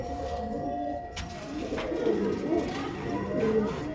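Pigeons with orange eyes and black beaks coo softly in a repeated low rhythm, close by over a steady background hum.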